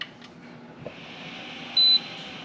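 A Mini-ITX MiSTer FPGA build gives a single short, high-pitched power-on beep, clear and isolated over a faint fan-like hum in a quiet room.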